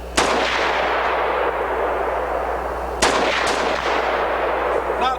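Full-power military surplus rounds fired from an Israeli FAL or M1A rifle fitted with a muzzle brake: loud, sharp gunshots nearby, one sharp report, then two close together a few seconds later, each trailing off in outdoor echo.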